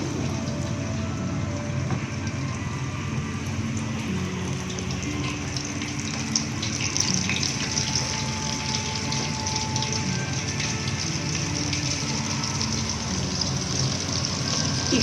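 KFC-style chicken deep-fries in hot ghee oil, with a steady, close, continuous sizzle and bubbling that runs throughout without pause.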